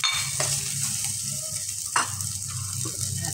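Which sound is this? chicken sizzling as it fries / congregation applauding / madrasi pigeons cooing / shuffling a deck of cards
chicken sizzling as it fries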